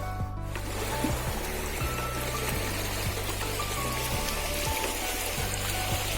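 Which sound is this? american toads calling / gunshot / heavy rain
heavy rain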